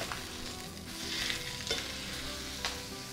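Steak sizzling steadily in a stainless steel pan, a continuous close frying hiss with a few brief louder spits and scrapes as it is turned.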